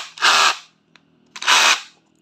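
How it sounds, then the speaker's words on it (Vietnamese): A cordless battery drill in drilling mode whirs in two short, loud bursts about a second apart, each roughly a third of a second long, with a quiet gap and a small click between them. "chế độ khoan, chế độ đục ok hết"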